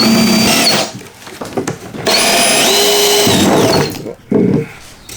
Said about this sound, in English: These are a step drill if you haven't seen these before.